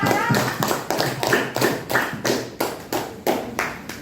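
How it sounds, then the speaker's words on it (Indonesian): A class group gets applause in a school classroom, delivered as a slow, rhythmic series of about a dozen distinct, close hand claps, evenly spaced like a patterned cheer. "kita beri tepuk tangan untuk kelompok 5"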